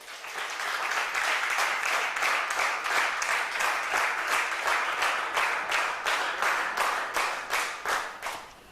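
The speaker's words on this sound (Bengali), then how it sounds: "তাদের জন্য করতালি হবে" A live audience at a motivational talk in Bogura breaks into sustained applause, dense overlapping hand claps rolling steadily and loudly for the whole stretch with no voices over it.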